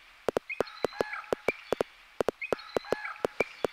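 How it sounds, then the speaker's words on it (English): A bird call sample is triggered on a Korg Electribe ESX-1 in a steady repeating pattern, sharp chirps and calls looping over a sparse electronic beat with clicking percussion hits. "Love using kind of wildlife sounds, especially birds, man."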